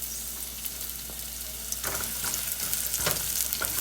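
Onions frying in a pan with a steady, close sizzle that grows louder and busier about halfway through, crackling with a few sharper pops.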